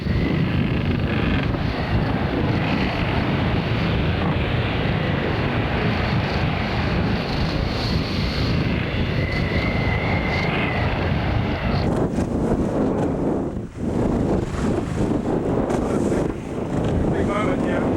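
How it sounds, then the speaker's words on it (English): A sailboat sailing west across the Atlantic under trysail after a dismasting, with steady loud wind roaring across the microphone and a broad rushing wash of water and rigging noise throughout. "Finally, we were under sail again, with the trysail, sailing west towards Canada."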